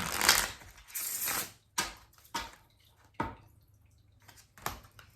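Playing cards riffled and shuffled at a table, several separate bursts of quick fluttering riffles with short crisp snaps between them, close and fairly quiet, no talking.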